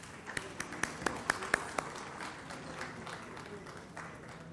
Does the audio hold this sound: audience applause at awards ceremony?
yes